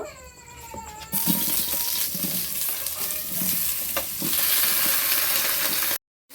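Ridge gourd dropped into hot oil in a wok bursts into a loud, close sizzle after a quieter start, crackling steadily with scraping stirs until it cuts off abruptly near the end.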